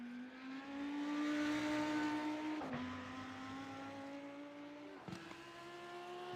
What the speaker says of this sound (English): Coming into the Western Horseshoe, the all-white Lamborghini Huracan Evo.